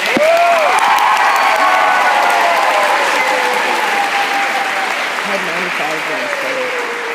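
Conference audience at a closing ceremony gives a loud round of applause, dense clapping from many hands that stays strong for several seconds, with a person speaking over it and a few cheers rising from the crowd.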